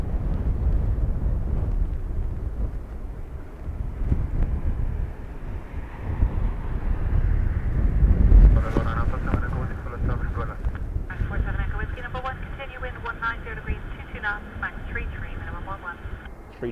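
Airliner arriving at Dublin Airport in blustery crosswinds: a deep, continuous rumbling roar buffeted by heavy wind noise, with a brighter engine whine emerging toward the end and occasional voices.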